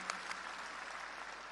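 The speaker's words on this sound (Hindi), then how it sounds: "तो एक बार जोरदार तालियां बजा के उनका हम सम्मान करते हैं" Applause from an audience at a meeting honoring newly elected district council and block committee members, a steady wash of clapping that holds fairly evenly through the short stretch with a couple of sharper claps near the start.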